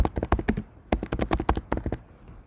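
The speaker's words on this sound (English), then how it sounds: "So we type the item in." Light clicking of keys on a computer keyboard as a product name is entered, two quick runs of close, soft taps separated by a short pause, with no talking.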